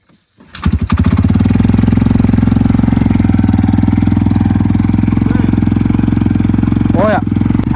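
An off-road vehicle engine with a slightly rough idle cranks and catches, then settles into a loud, fast, steady chugging idle, with a couple of brief revs near the end.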